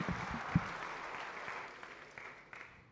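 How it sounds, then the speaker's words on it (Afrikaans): Scattered clapping from a church audience welcoming a woman, fairly faint and soft, with a few sharper individual claps early on before it thins and fades away. "Vriende, ons gee vir haar lekker hande klap."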